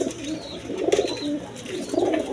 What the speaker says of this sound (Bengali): দর্শকবৃন্দ এখানে এক পেয়ার কবুতর আছে দেখেন